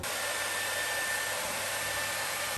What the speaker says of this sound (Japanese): つむじの付近ではなるべく髪を根元から持ち上げて乾かすようにします。